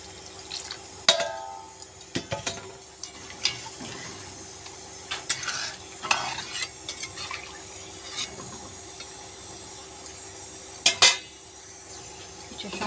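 Water is poured into a pan of sautéed vegetables, followed by clinks of a utensil against the pan and stirring, with irregular metallic knocks over a faint steady hiss.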